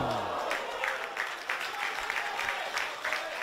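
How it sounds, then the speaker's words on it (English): Spectators at a Brisbane City vs Lions FC men's football match cheer and applaud, giving a broad crowd roar with clapping. A commentator's voice rides over it and briefly rises above the noise. "The crowd is encouraged."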